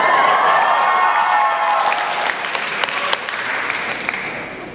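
A large audience at an education conference keynote breaks into loud applause with cheers and whoops, strong at first and slowly thinning out, with a few scattered claps standing out near the end.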